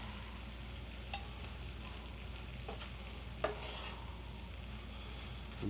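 Vegetables sizzle steadily in a pan while a utensil stirs them, with a soft constant frying hiss and a few brief scrapes and clicks, faint and close, with no talking.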